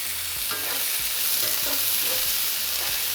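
Strips of nopales and onion cooking in a pan for a chile colorado dish, stirred with a few distinct scrapes over a steady sizzle, close and fairly even, with no voices.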